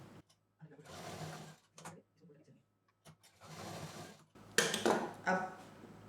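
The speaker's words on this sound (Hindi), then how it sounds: "वही मशीन इसके साथ में ही इसको यहाँ बराबर से सिल देंगे।" A sewing machine stitches along the seam of a traditional fabric potli bag in two short whirring runs separated by pauses. Speech-like sound joins toward the end.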